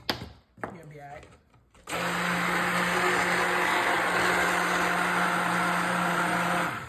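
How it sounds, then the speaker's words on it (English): An immersion blender whirs loudly and steadily as it mixes sugar for strawberry candy apples, starting abruptly after some brief handling noises and running without a break. "Okay, so got the immersion blender."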